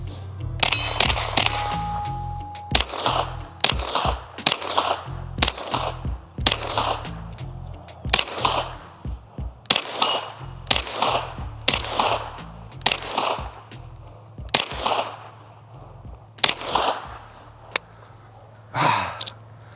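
Springfield Armory Kuna roller-delayed 9mm pistol-caliber carbine fires in sharp, loud bursts and single shots spaced through the clip, each crack ringing briefly before the next string.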